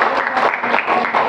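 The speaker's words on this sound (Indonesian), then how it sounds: "Boleh beri tepuk tangan untuk Atta?" A physics class applauds a student, a dense burst of hand clapping from many people that stays steady and fairly loud for just over a second.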